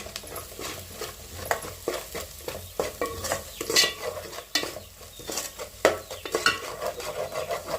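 Spoon stirring chili masala paste with green chillies in a metal pan for mutton gravy, uneven scraping strokes and clinks over a soft sizzle, close and fairly loud.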